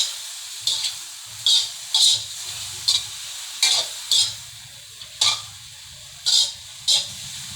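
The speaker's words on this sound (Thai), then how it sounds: "ผัดเห็ดกับปลาหมึก ให้น้ำมันออกก่อนครับ" Mushrooms and squid stir-fried in oil with curry paste: repeated scraping strokes of a utensil against the pan at an irregular rhythm over a low, steady sizzle, close and fairly loud, with no talk.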